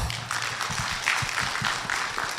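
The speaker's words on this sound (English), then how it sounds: "A round of applause to him" Conference audience applause fills a hall, a steady wash of many hands clapping at moderate volume, continuous and fairly even for a couple of seconds with no talking over it.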